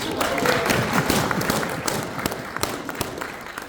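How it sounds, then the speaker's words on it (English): Crowd applause with scattered cheering at a live event, a continuous rough roar of clapping with sharp individual claps popping through near the end. "Give Peter a round of applause."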